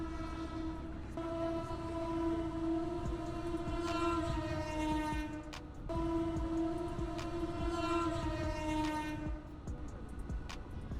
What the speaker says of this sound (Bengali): মানে জাস্ট একটা ইঞ্জিন যাচ্ছে, বাট পুরা হর্ন দিয়ে তারপরে যাচ্ছে।